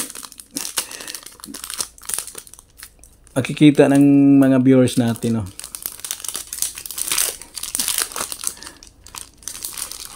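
Plastic packaging crinkles and crackles as a 999.9 silver Canadian five-dollar coin is unwrapped by hand, with a louder burst of rustling midway, all under ongoing talk.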